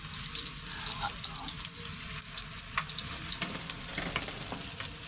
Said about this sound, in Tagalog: igisa-gisa natin guys